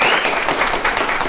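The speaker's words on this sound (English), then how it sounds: "So everybody give them a round of applause." A crowd in a church breaks into a round of applause, brisk continuous clapping from many hands filling the room for about a second and a half.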